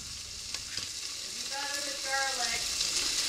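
Onion sizzling as it cooks in a pan, a constant bright crackling hiss up close, with a few clinks and brief tonal squeaks partway through; no speech.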